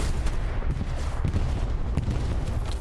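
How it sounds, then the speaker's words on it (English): Katyusha rocket barrage slamming down in Hell Let Loose, a dense, loud rolling roar of overlapping explosions and booms that continues without pause. "we got a Katushka strike coming in here for the Allied forces. Let's go ahead and back up here and just enjoy one of the greatest looks in this Hell Let Loose game as those rockets start flying in"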